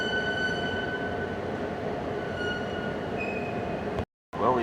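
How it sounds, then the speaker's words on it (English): A train leaving a station rumbles steadily with faint high-pitched wheel tones, a continuous rolling drone, then a brief cutout before a voice starts. "Well, we've got a train leaving."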